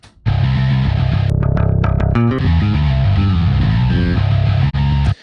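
Distorted bass guitar tone sitting in a dense, loud metal mix, processed with heavy low-end and top-end compression and a distortion effect, playing sustained riffing notes continuously with a brief dropout near the end.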